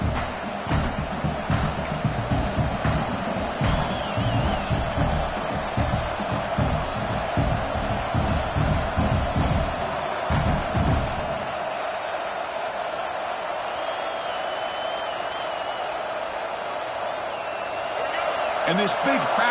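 Video game football stadium crowd roars loudly and steadily near the goal line late in a tied fourth quarter, with thumping and clapping in the first half before the noise thins to a softer murmur. A commentator talks over it.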